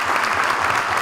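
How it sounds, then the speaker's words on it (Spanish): A short burst of dense audience applause at a prosecutor's public event in Caracas on a school bullying campaign, a continuous wash of clapping with no voices over it. "quiero para ellos un fuerte aplauso"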